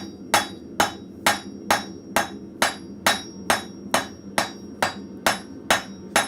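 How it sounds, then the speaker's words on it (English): A blacksmith hammering a taper on an anvil at a forge: about thirteen loud, sharp, evenly spaced ringing strikes, each about half a second apart, with short decaying rings between them. "So I kind of have to angle my hammer a little bit."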